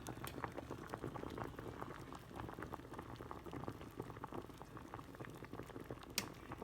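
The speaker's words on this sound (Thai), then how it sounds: "เดี๋ยวลองเอามาต้มดูค่ะว่าจะอร่อยไหม" Homegrown potatoes boil in a pot, a continuous quiet bubbling and popping patter heard up close, steady throughout with one brief sharper knock near the end and no talking.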